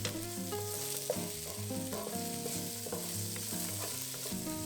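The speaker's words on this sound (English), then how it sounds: "Add the sliced onion and stir fry for about 30 seconds until fragrant and slightly" Sliced onion sizzling in a hot wok during a Thai yellow curry crab stir-fry, a steady close frying hiss with stirring clatter throughout, alone with no talk.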